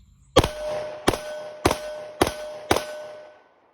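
Five sharp, loud pistol shots from a Sig P365 fired at an outdoor range, evenly spaced about half a second apart, each with a short ringing decay and no talking.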